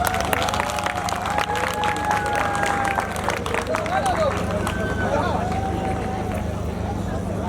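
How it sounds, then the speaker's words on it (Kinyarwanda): Women in the audience at a Miss Ngoma pageant clap together in a sustained burst of crowd applause, loud and dense, with voices and a tonal vocal line carrying over the clapping. "abakenyezi mwese muri ngaha abamama ndabasabye mubanze mwiha amashyi menshi cyane"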